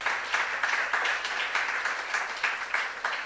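Church youth congregation clapping together in a steady, moderately loud wash of applause that continues without a break.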